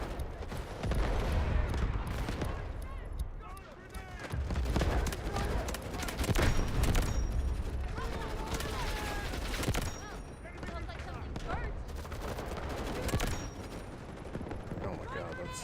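Gunfire in the shooter Delta Force, with bursts and single shots rattling across a busy, noisy battlefield mix, some louder swells, and a voice talking intermittently underneath.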